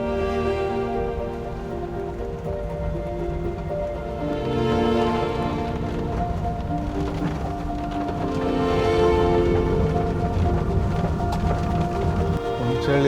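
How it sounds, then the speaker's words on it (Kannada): Heavy monsoon rain falls steadily on the road toward Unchalli Falls near Sahasralinga, a dense continuous wash that swells louder twice and then eases, with no voices. "ಈ ಫಾಲ್ಸ್ ಹತ್ರ ಹೋಗ್ತಾ ಹೋಗ್ತಾ ಮಳೆ ಜಾಸ್ತಿ ಆಗೋಕ್ಕೆ ಶುರು ಆಯಿತು"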